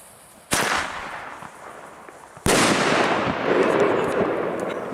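Firecrackers and fireworks set off outdoors for New Year's Eve, two sharp loud bangs a couple of seconds apart, each followed by crackling and a sustained hiss of burning pyrotechnics.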